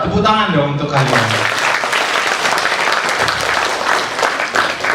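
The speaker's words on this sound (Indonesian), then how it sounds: "Tepuk tangan dong untuk kalian." Students applaud in a loud, continuous burst that follows a brief spoken line and then carries on steadily without letting up.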